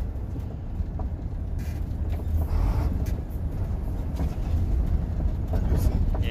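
A Sino truck's diesel engine drones steadily during a double-clutch downshift from gear 9 to gear 8 in a 10-speed gearbox, with a low continuous rumble and slight shifts in tone.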